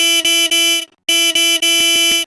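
A car horn honks behind a motorcycle lane-splitting in traffic, a loud, close blare sounded in a run of short and longer blasts with a brief gap in the middle.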